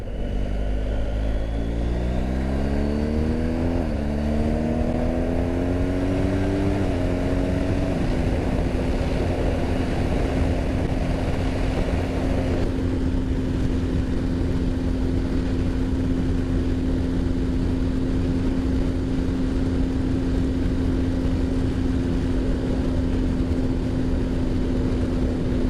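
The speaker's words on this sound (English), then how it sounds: "this bike picks up a lot quicker than the other one" A motorcycle engine revs up through several gears with rising, stepping pitch sweeps, then settles into a steady cruising drone with constant wind and road noise, heard from on the bike.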